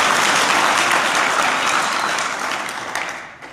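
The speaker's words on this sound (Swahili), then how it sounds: "Tujipigie makofi wote kwa pamoja." Applause from a crowd at a Yanga club meeting, dense and loud continuous clapping that fills the whole stretch and tapers slightly at the end.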